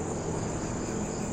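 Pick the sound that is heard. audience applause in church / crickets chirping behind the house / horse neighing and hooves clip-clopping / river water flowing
crickets chirping behind the house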